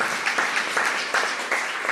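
Applause at a public policy gathering in Buenos Aires, a short burst of steady, close clapping from a group.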